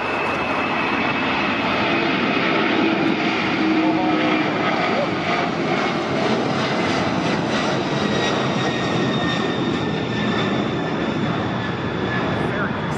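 An Aloha Air Cargo jet bound for Honolulu roars on takeoff from LAX, a loud, continuous broadband engine rush heard from a nearby hill with voices talking underneath.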